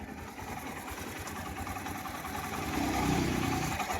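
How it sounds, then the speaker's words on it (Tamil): A car engine idles steadily at a moderate level, its low rumble holding constant before swelling slightly louder near the end, with no voices. "வண்டி ரன்னிங்கில் தான் இருக்குது, பார்த்தாலே தெரியும்"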